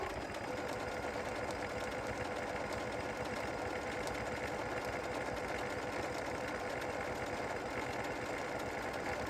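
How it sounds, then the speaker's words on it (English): A sewing machine stitches a purse, its motor running in a steady, continuous whir throughout, close and even with no pauses and no talk. "And now I'm going to proceed to sew."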